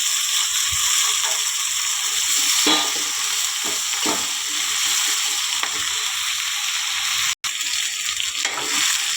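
Brinjal and potato curry being stirred in a frying pan, a steady bright sizzle throughout with repeated scraping strokes of a spoon against the pan, close and loud.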